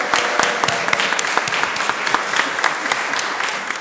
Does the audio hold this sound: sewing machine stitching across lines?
no